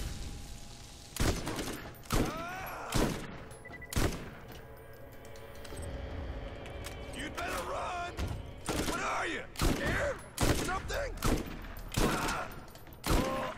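Shotgun fire in Borderlands comes as loud, separate blasts at irregular intervals, about a dozen heavy booms with echoing tails, mixed with game effects and someone talking between the shots.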